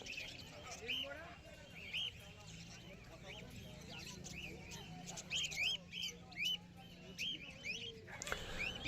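Caged birds, including conures, squawk and chirp at the Galiff Street bird market in Kolkata, with sharp repeated calls over a busy background murmur of people talking nearby.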